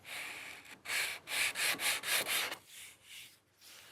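Sandpaper rubs back and forth along an electric guitar neck in a quick series of seven or so close, scratchy strokes, followed by a few softer, lighter passes.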